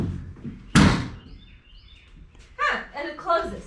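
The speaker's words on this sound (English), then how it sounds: "She can open the door." The door of a Factory Five 35 hot rod truck thunks shut once with a sharp, close slam, followed by light clicks as people talk nearby.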